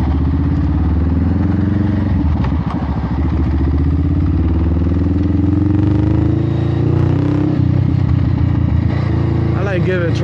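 A Honda Rebel 500 motorcycle rides through town streets, its engine droning loud and close throughout with shifting throttle pitch while a rider talks over it.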